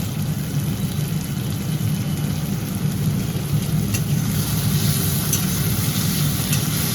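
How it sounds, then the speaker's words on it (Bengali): Mushrooms fry in a hot pan with a loud, continuous sizzle and hiss, steady throughout, a close wash of crackling under a faint low hum. "এখানে তো দেখতেই পাচ্ছেন যে মাশরুম ফ্রাই করা হচ্ছে"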